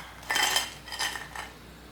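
Crispy fried baby corn for restaurant-style manchurian is tipped onto a plate, giving two brief bursts of close clinking and rattling against dishware, with no talking.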